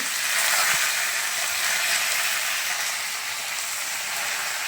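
Potatoes and pointed gourd fry in hot oil with nigella seeds, giving a loud, dense, steady sizzle close by, with a faint clink early on and no talking.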